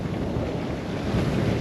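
Strong wind rushes over a sailboat crossing from Morocco to Spain, a dense, steady roar of gusts buffeting the microphone with the wash of waves beneath. Nobody speaks.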